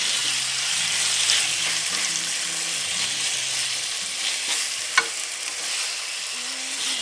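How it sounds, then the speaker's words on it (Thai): Tamarind chili paste being stir-fried in a pan for Thai nam prik makham: a steady close sizzle with continuous scraping and stirring, a brief sharp knock near the end, no talking. "ผัดนะครับ"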